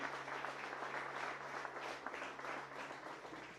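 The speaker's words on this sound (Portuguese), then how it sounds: "Quem crê, dê uma grande salva de palmas ao Senhor." A church congregation applauds together, a steady wash of many hands clapping that holds at an even, moderate level from start to finish with no voices over it.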